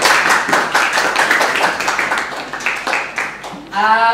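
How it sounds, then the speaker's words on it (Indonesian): A classroom group applauds during a teaching-practice session, with a few seconds of close, lively hand clapping that ends abruptly, followed by a brief voice. "Tepuk tangan."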